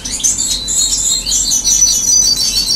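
A young sparrow chirps repeatedly from a twig, bright high tweets running steadily and fairly close over a faint background hum.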